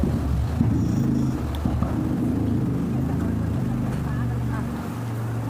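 A motorboat engine drones steadily at close range, low and continuous, with wind and water noise around it, during a forest boat ride at Gavi.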